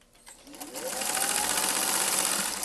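A sewing machine stitches fabric squares together, starting with a few slow stitches, then speeding up into a steady, fast, close whirring hum that runs to the end.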